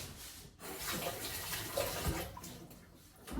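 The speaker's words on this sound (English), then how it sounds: "I need to wash my hands" Hands being washed under a running kitchen tap, a soft steady splash of water with slight shifts as the hands move through the stream, fairly quiet and without talk.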